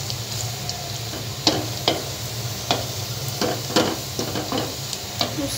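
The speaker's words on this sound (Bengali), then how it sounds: "আমি এখানে পেঁয়াজটাকে বেজে নিব ভালো করে, বেরেস্তার মতো" Onions frying in oil until crisp and golden like beresta, a steady close sizzle punctuated by regular scraping stirs of a spatula against the pan.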